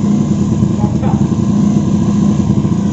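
A 125cc motorcycle fitted with a Tsukigi VND exhaust runs steadily at close range, a low throbbing engine drone that holds at even loudness throughout with no revving.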